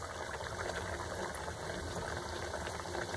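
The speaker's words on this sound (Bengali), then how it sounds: "আবারও একটা এই কড়াইয়ের তেলে ছেড়ে দিলাম।" Radhaballavi, a stuffed Bengali dough bread, frying in hot oil in a kadai, making a constant dense bubbling hiss, close and steady with no talking.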